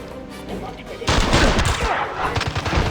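Enemy gunfire in the video game James Bond 007: Blood Stone erupts suddenly after a quiet second, a loud, close burst of rapid shots that rattles on to the end.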